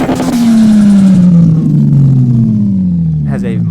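A tuned wide-body drift car in Drift21 with a big body kit, fat spoiler and grippy tires revs loud and close, its exhaust note sweeping down as the engine winds off, with a brief voice near the end.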